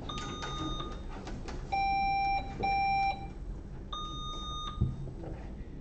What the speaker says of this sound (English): Anyone want to test the buzzer?